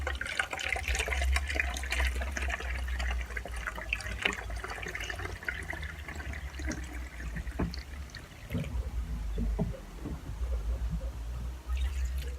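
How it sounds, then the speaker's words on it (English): Strained rice water pours steadily through a funnel into a bottle, a continuous gurgling trickle with splashes, close and fairly even throughout, no talking. "I'm just going to funnel it into my bottle."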